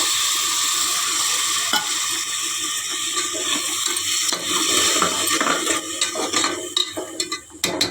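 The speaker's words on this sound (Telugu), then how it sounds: "దీంట్లోని ఇప్పుడు పెరుగు వేసుకోవాలి." Yogurt stirred into masala frying in oil, a loud sizzle and bubbling with wet stirring noises, growing more uneven toward the end, with no talking.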